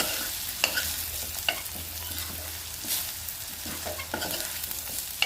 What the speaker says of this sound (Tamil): இதை நல்லா கலந்து வச்சுக்கணும்.